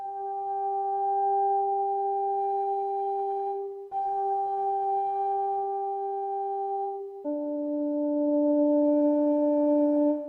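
Clean, steady sustained tones from a sampled brass library held for several seconds each, shifting pitch twice, with a synthetic, hum-free brass-like quality and little hiss.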